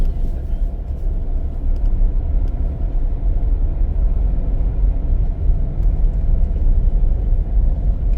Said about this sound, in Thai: เดี๋ยวจะลองขับรถไปเรื่อยเพราะมันน่าจะไปออกอยู่แถวตลาดนะ